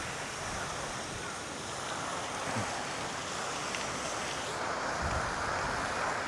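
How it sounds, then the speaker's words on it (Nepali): Strong wind blowing by open water on an autumn day, a loud steady roar of gusts buffeting close with a wash of water behind it, continuous throughout. "आँखै हेर्न नसक्ने गरी हावा चलेको पुरै"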